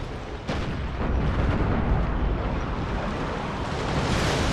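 Ship cannons fire a volley in Empire: Total War, a heavy rumbling boom that breaks in abruptly and rolls on as sustained, loud thunder with a sea-like wash.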